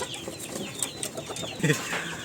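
Chickens at a rooster farm with egg-laying nests clucking softly in the background, faint scattered calls with one slightly louder cluck near the end.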